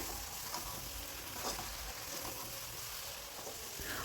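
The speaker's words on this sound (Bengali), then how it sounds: "মশলাটা মিশিয়ে মিশিয়ে কষে নিতে হবে" Spices and soft potatoes sauté in a pan with a continuous low sizzle, overlaid by soft scraping strokes of gentle stirring, fairly quiet and close with no talking.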